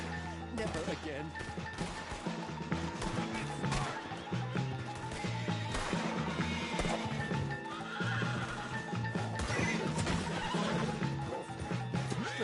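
Horse neighing and hooves clip-clopping in the Red Dead Redemption video game, with game voices talking over a dense, continuous mix of action sounds, including crashes and gunfire-like bangs.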